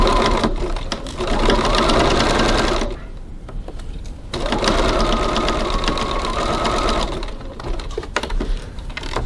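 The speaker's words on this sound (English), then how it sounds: "Now I'm going to stitch 3/8 of an inch or 1 centimeter from the edge." Sewing machine stitching a seam about 3/8 inch from the fabric edge, a loud close rapid chatter in two long runs split by a brief pause.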